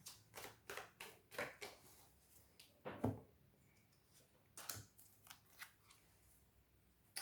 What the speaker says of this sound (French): je vais prendre une carte pour voir un petit peu déjà l'énergie